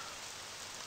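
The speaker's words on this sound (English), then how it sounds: "God damn it, it's raining." Light rain falling in a soft, steady hiss of drops on surfaces, faint and distant-sounding, with no voices over it.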